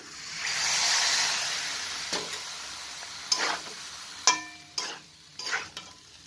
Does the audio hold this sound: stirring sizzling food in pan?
yes